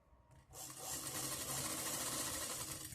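A sewing machine stitches a zipper pocket onto trousers, starting after a brief quiet moment and then running as a steady, close, continuous whir for the rest of the clip.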